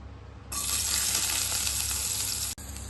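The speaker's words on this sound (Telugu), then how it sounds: "ఆయిల్ హీట్ అయ్యాక చాప్ చేసుకున్న ఆనియన్స్ వేయాలి." Chopped onions drop into hot oil and burst into a loud, steady sizzle that runs for about two seconds, then briefly cuts out and resumes, while making restaurant-style crispy corn.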